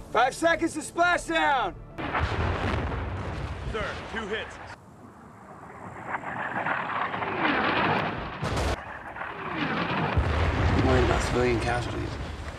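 Deep booms of artillery fire thud amid rumbling battle noise and shouting voices, with a loud blast near the middle.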